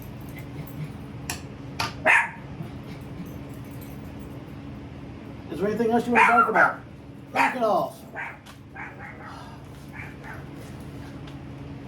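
A pet Chihuahua barks in short, high, yappy bursts: a single yip early on, then a cluster of rapid barks and another quick volley, near and loud, while someone talks in between.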